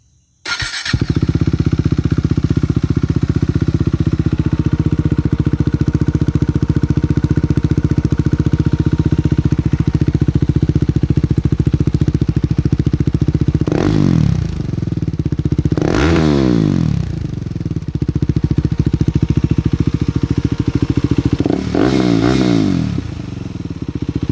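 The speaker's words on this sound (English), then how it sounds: "The Delkevic 8-inch mini round carbon slip-on exhaust on a KTM Duke 390." A KTM Duke 390 single-cylinder motorcycle fitted with a Delkevic 8-inch mini round carbon slip-on exhaust starts, then idles with a steady burble, broken by three sharp throttle blips that rise and fall, close up with no talking.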